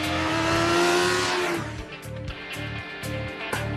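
An MV Agusta Brutale naked motorcycle engine revs hard and loud, its pitch climbing and then dropping into a repeated, pulsing rhythm of throttle blips as the bike runs close by.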